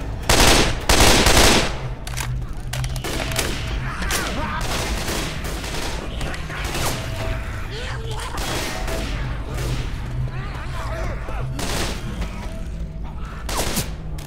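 Gunfire in the video game Left 4 Dead 2, Blood Harvest campaign, with railgun shots: loud sustained fusillade of automatic weapon bursts and booming blasts throughout, dense and close.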